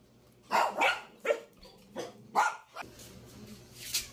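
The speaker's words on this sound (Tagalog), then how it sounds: "Kung hindi maingay ang aso po" Several sharp dog barks in quick succession from a pet dog named Mingkay, fairly close, with irregular spacing and short pauses between them, over quiet background.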